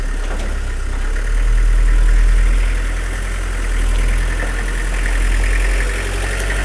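A classic car nicknamed Titine idles steadily as it drives in to its new home, a low continuous engine rumble that swells gently a few times, with no talk over it.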